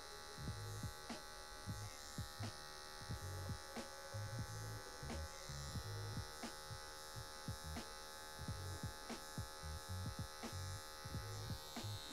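An electric hair clipper at the zero setting cutting a fade, a steady close buzzing hum with rhythmic dips as the blade passes through hair, running continuously.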